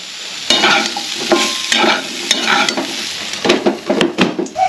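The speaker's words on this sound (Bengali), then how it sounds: "আলু আর কুমড়ো ভেজে নিচ্ছি।" Potato and pumpkin pieces fry in mustard oil with turmeric and salt, a steady close sizzle broken by repeated scraping stirs of a spatula against the pan.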